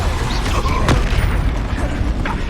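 A Depulso spell blast in the Hogwarts Legacy video game lands as a single loud, sharp burst about a second in, over a steady wash of background game sound.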